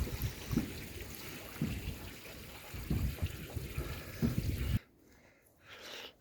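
Hot spring water from the ground near an Icelandic shore, piped into a small container, a quiet continuous trickling and splashing that cuts off abruptly near the end, leaving faint background sound.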